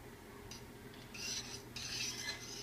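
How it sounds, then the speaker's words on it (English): Steady scraping and swishing of a spoon stirring warm milk in a pot for a pumpkin spice latte, quiet and close, growing a little louder in the second half, with no talking. "And you're just going to want to keep stirring this constantly."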